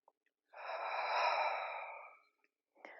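A person drawing one long, slow, audible breath in during a yoga arm stretch, close and quiet in a silent room, followed by a brief softer exhale-like puff.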